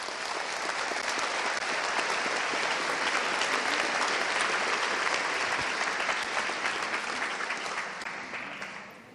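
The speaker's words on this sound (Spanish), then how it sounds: "Un aplauso para todos ustedes." A seminar audience in Lausanne, Switzerland, applauds in a dense, steady roar of many hands that holds evenly and then tapers off at the end.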